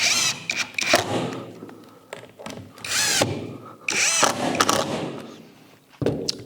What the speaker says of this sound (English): I'm just going to attach that with a couple of screws.